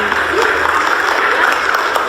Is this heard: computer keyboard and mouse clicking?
no